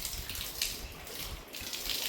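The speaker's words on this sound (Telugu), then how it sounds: "ఎగ్జిట్ హోల్ ఓపెన్ చేసి నార్మల్గా వాటర్ కొట్టుకుంటూ ఉండాలి" Water sprayed steadily onto an air cooler being cleaned with its exit hole open, giving a continuous hissing splash that stays fairly even and close throughout.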